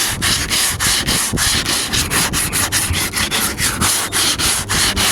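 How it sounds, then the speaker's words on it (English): Bondo body filler on a Nissan Skyline R34 replica being sanded by hand with fresh 40-grit sandpaper on a flat board: loud, steady rasping strokes in a quick back-and-forth rhythm, close up and continuous with no talking. "You gotta use a brand new sandpaper like me, 40 grit. You can rip through this Bondo."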